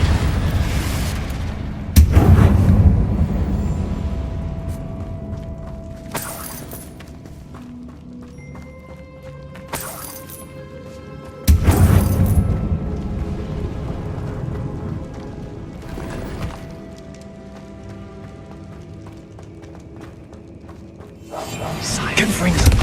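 Confringo blasting spell explosions in Hogwarts Legacy: several loud booming blasts spaced a few seconds apart, each decaying into a rumble, with spoken voices and game sounds between them.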